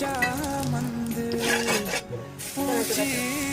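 Semolina dosa batter sizzles and crackles on a hot oiled griddle while utensils clink and stir, with tonal music playing over it.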